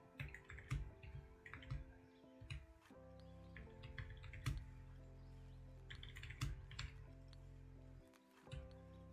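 Typing on a computer keyboard while coding a Rust card game: quick irregular bursts of clicky keystrokes with short pauses between runs, close and distinct, with no talking.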